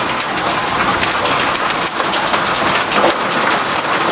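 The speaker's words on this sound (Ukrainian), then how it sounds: "Це ще й град Трапляються великі градинки." Heavy rain mixed with hail pours down in a dense, loud, steady hiss, with occasional harder pattering impacts and no voices.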